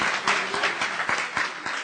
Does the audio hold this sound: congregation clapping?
yes